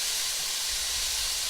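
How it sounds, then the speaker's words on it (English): Continuous crackling sizzle of red curry noodle soup ingredients frying in a hot pan, steady and close, with no voices. "Good sizzle, Nancy Kite says."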